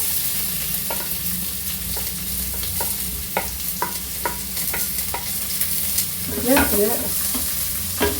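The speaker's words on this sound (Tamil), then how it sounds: "இப்போது எண்ணெய் சூடாயிடுச்சு. வெங்காயம் போடுறோம்." Onions sizzling in hot oil for brinjal kosthu, a steady, fairly loud frying hiss with regular spatula taps against the pan and a clatter of stirring near the end, with no one speaking.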